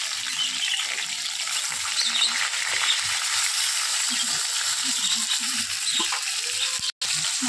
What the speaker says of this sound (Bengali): এবার এই পাশটাও লাল লাল করে ভেজে নেব